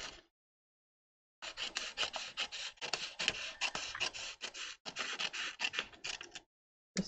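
Scissors snip steadily through a sheet of crafting paper along its center line, a run of quick, crisp, close scraping cuts in short rhythmic bursts after a brief pause, with no one talking.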